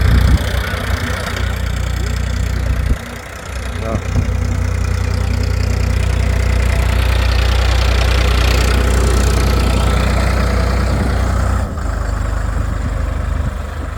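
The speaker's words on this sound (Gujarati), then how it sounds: "રમતું જાય ટ્રેક્ટર ખેતરમાં" A tractor engine with a laser land-leveling machine chugs steadily nearby in a farm field, with a deep, knocking rumble, dipping briefly before resuming at full drone.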